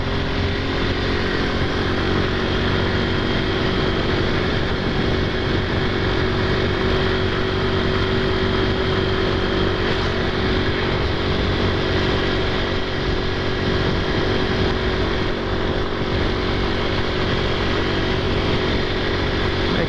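A Honda Pop 110 motorcycle engine drones steadily and loudly while climbing uphill in fourth gear, a continuous, unbroken labouring hum with no pauses.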